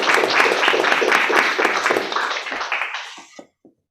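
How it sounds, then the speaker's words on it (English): An audience claps together in sustained applause at the close of a student project presentation, steady dense clapping that thins out and stops, with a few last scattered claps at the end. "So I think we should give them a round of applause."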